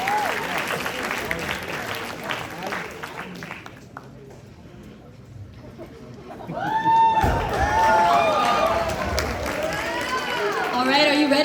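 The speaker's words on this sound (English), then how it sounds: "Welcome him with a round of applause" A high school pageant audience applauds and cheers, fading briefly before swelling again beneath loud, excited speech over a microphone.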